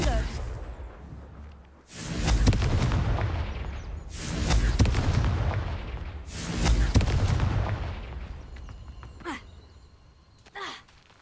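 Confringo blasting-spell explosions in Hogwarts Legacy: three heavy booming blasts in succession, each with a rumbling decay, followed by a couple of sharper distant cracks.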